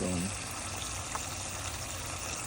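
Water running steadily into a Caldera Salina salt water hot tub, a continuous broadband rush and gush that stays even and close throughout with no talk over it.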